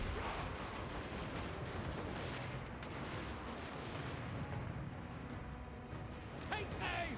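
Hand gunners firing in Total War: Warhammer 2, a dense, steady crackle of massed gunfire blended with battle din, continuous and fairly distant, with a brief sharper burst near the end.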